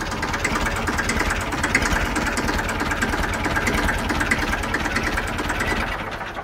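A 1991 Ford 3600 tractor idles close by with a steady, loud mechanical chug and a rapid, even knocking pulse throughout, with no voices over it.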